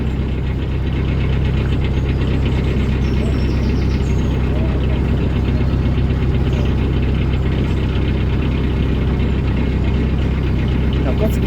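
A car engine idles steadily and close, with a low continuous rumble and a slight rise in revs, running alone through the stretch.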